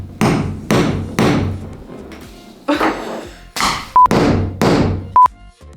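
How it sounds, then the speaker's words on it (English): A grommet setting tool struck with a hammer against an anvil, used to install a grommet in fabric; a series of sharp, loud metallic blows at an uneven pace, about eight strikes, some with a brief ringing ping. "using your tool, just place it on top and give a little hammer"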